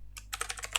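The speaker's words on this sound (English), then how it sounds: "To access a ChatGPT, we type in" Quick bursts of keystrokes on a computer keyboard, a short pause followed by a steady run of about eight clicks, close and fairly quiet.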